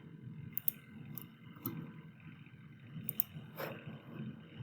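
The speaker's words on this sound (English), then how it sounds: "I'm going to finish typing this in." Equation being typed in: sparse, faint clicks of keys pressed in small clusters against a quiet low background hum, with a few isolated taps spread across the stretch.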